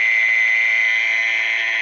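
A loud, continuous high-pitched buzzing trill from a mole cricket, steady and shrill with no pauses, heard close up and alone.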